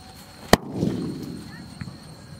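A single sharp bang from a small bullet bomb firecracker cracks loudly, followed by a rumbling echo and faint crackle fading over a couple of seconds.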